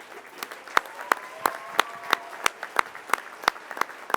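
Sparse applause at a school board meeting for a student first-place art winner, a few hands clapping in distinct, irregular claps with a faint voice underneath.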